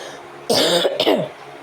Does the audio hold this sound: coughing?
yes